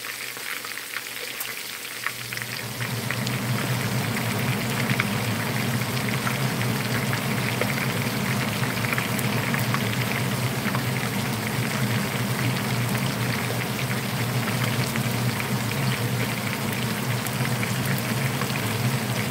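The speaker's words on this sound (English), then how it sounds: "Fish frying pretty good now." Fish fries in hot oil, a dense, loud, steady sizzle and crackle that starts after a brief quieter moment and continues unbroken, with no talking.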